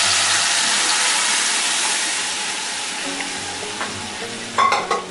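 Ground tomato dal mixture tipped into sizzling tempering in a pan, giving a loud, steady frying hiss that slowly fades, with a few utensil clinks near the end.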